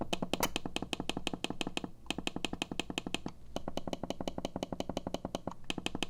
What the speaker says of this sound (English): let's try the button here for the scroll wheel